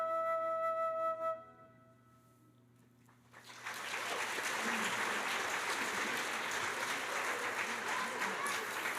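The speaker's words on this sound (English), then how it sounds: "Another round of applause for" A music chord fades into near silence. Then sustained audience applause breaks out at the Nordonia OMEA preview school concert in 2023 and stays loud and steady to the end.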